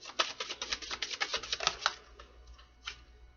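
Playing or tarot-style cards shuffled by hand, a quick run of crisp riffling clicks that slows and stops, close and fairly quiet with no talk over it.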